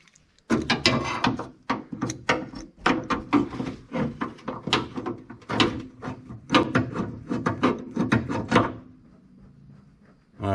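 Loosened bolts being worked out of a 1959 Dodge Coronet during bodywork: a long run of sharp metallic clanks, knocks and rattles in quick irregular bursts, close and fairly loud, then a brief quiet stretch near the end.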